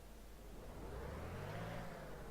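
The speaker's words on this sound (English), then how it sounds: "Engine sounds are a little different" A double-decker bus engine in the OMSI 2 driving simulator runs with a deep, bassy drone that rises slightly in pitch as it revs, steady and moderately quiet, with no talk.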